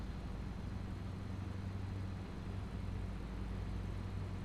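A truck engine in American Truck Simulator produces a steady, low, droning rumble that holds constant for several seconds with no talking over it.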